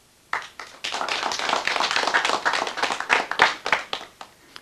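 Audience applause breaks out after a card fan is demonstrated on a 1985 Danish local TV variety show, a dense burst of many hands clapping close by that swells, holds for several seconds, then thins out.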